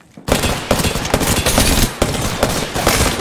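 Dense, sustained automatic gunfire from Apex Legends, Season 10, a loud continuous rattle of shots with brief sharp bursts, starting abruptly after a short silence and running throughout.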